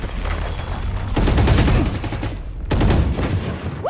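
Rapid gunfire in Valorant aimed at a planted spike bomb, two loud bursts of repeated shots in quick succession, the second after a short lull.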